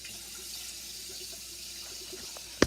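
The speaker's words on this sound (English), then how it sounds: "and we're going to add cold water." Cold tap water runs steadily into a pot of boiled eggs, a soft constant hiss that ends with a sharp knock.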